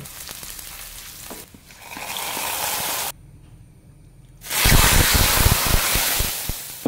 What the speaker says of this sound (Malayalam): ചൂടായ ചട്ടിയിലേക്ക് 1/2 ടീസ്പൂൺ വെളിച്ചെണ്ണ ഒഴിച്ചു കൊടുക്കാം, 1/2 ടീസ്പൂൺ ഉലുവ, 1/2 ടീസ്പൂൺ കടുക്